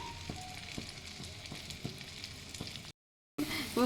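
Mutton shami kababs sizzle steadily in a pan with a little oil, a dense continuous frying hiss punctuated by soft pops, briefly cut to silence before resuming louder.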